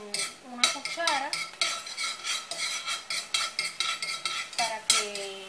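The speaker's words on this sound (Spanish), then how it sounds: "Voy a ir moviendo con una cuchara" A spoon stirs sofrito of onion and other ingredients in a pan, scraping and clinking against the metal in a steady rhythm over a faint sizzle, with no voices.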